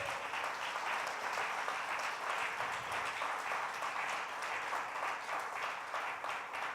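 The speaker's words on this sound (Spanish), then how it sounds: "Dale un aplauso al Señor." A church congregation claps together in steady, moderately quiet applause that runs evenly for almost seven seconds without talk.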